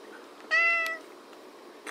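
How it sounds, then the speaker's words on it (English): Pet cat meowing and whining indoors, one drawn-out nasal meow of about half a second, close and clear over a steady background hiss, followed by a faint short sound near the end. "Do you hear my cat?"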